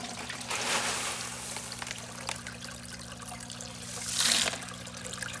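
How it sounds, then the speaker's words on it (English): Clay pellets for a hydroponics setup tumble into water, making a rustling, trickling wash with a louder splashy pour near the end, steady background hum, no talking. "I'm gonna put the clay pellets into the water"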